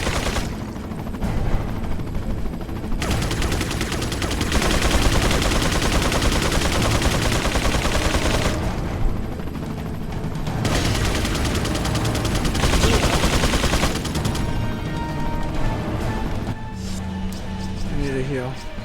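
Sustained gunfire in Resident Evil 4 (2005), long dense bursts of shots aimed at a tower, loud and near, broken by short pauses, with talk mixed in.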